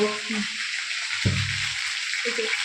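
Oil frying in a pan at a home kitchen while cooking lunch, a steady close hiss and sizzle throughout, with brief low clatter of something moved in the pan and a few faint voices underneath.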